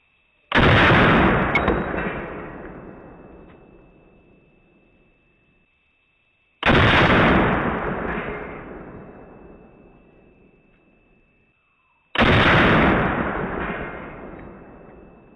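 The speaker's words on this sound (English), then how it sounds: "This is my first version on a muzzle brake. I call it the bottle opener brake for obvious reasons. 3 shots." Three loud, sharp gunshots from an AR-15 in 5.56 fitted with a custom bottle-opener-style muzzle brake, evenly spaced several seconds apart, each with a long rolling echo that fades outdoors.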